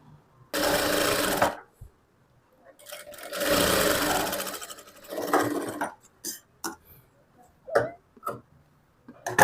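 Sewing machine stitching fabric for a frock made over from a blouse: two long, loud runs of rapid stitching, then a string of short, separate taps and clicks as the machine starts and stops. No talking is heard.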